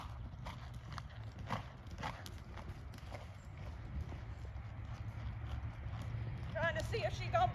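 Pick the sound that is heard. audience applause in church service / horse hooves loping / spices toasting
horse hooves loping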